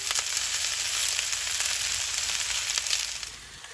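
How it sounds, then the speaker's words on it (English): Onions and potatoes frying in a cast iron skillet at a deer camp, a steady close hiss of sizzling fat with small crackles and pops throughout, fading slightly at the very end. "That onion will start cooking and caramelizing."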